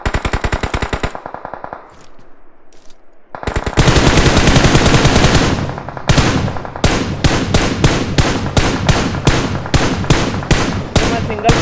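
PUBG Mobile gunfire comes in loud, close bursts of automatic fire, then a break, then a string of sharp single shots at a regular pace with brief gaps between them.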